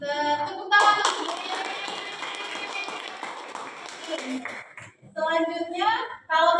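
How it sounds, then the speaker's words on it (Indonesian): A class of children claps hands together in a classroom during a primary school science lesson, a brief burst of quick claps set between stretches of a teacher talking in Indonesian and children answering. "Kita tepuk tangan untuk"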